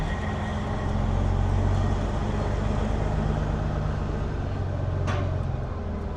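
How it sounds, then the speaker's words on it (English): A grain truck rolling forward off a farm weigh scale, its engine a steady, loud low drone with constant rumble throughout and a brief higher whine near the end. "So I'm gonna pull the truck all the way off the scale."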